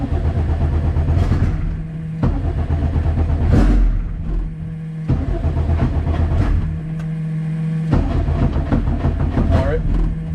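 A Honda CRX engine running on E85 fuel struggles to idle, a loud rough rumble with uneven surges and dips that stays close, with people talking over it.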